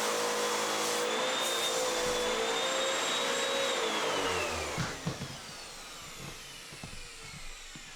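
A shop vacuum runs loud and steady, pulling up drilling debris from a hole bored in a 12-volt CB base radio box, then cuts off around the fifth second as clunks and scraping follow.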